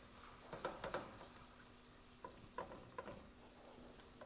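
Ground meat browning in a pot for chili, stirred with a bamboo spatula: a soft steady sizzle broken by a few light scraping and stirring taps, quiet and close.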